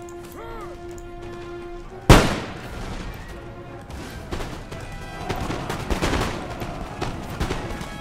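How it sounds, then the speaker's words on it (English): Musket volley fire from line infantry in Empire: Total War, a sharp loud crack of a mass volley followed by a continuing rattle of scattered gunshots and battle noise, with a faint voice underneath. "There you go, mass rout, simply due to pouring fire into them."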